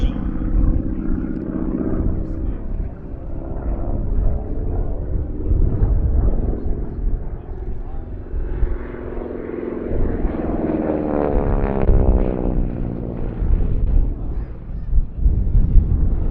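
A North American AT-6 Texan propeller trainer passes at an airshow, its radial engine a steady loud drone with a rising and falling pitch sweep as it flies by, no talk.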